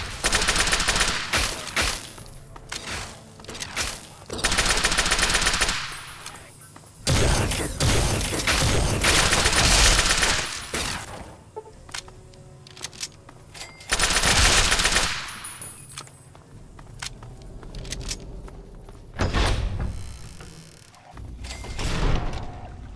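Bursts of automatic gunfire and rattling mechanical clatter from a Fallout 3 combat scene come in loud, repeated volleys separated by short lulls, with no speech over them.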